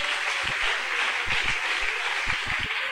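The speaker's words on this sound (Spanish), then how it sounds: "¿Cuántos aplauden al Señor esta mañana?" Church congregation applauding during a Spanish-language service, a steady wash of clapping from many hands with a few stronger claps standing out, fairly close and continuous throughout.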